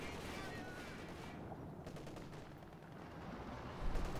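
Gunfire in Company of Heroes 2, with Obersoldaten infantry shooting at the crew of a Zis anti-tank gun, a dense continuous crackle of rifle and machine-gun fire mixed with battle noise, fairly faint and heard without voices.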